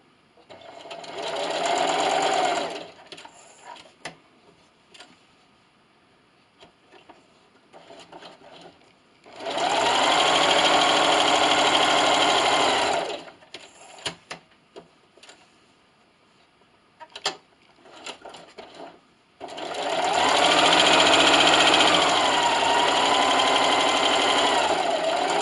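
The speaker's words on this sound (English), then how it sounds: "I have the blue line right in the center of my presser foot, and I'm going to sew." Sewing machine with a walking foot stitching a quilted glasses sleeve, running in three steady mechanical whirring bursts of a few seconds each, separated by quieter pauses with small clicks.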